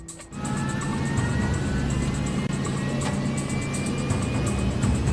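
Airliner jet engines of a Metrojet flight spool up for takeoff on runway 04 right, a loud, steady roar with rising whine that holds continuously from start to finish.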